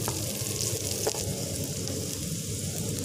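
A paratha sizzling on a hot griddle in a home kitchen, a steady hiss and crackle of frying with a faint tap or two partway through, no talking.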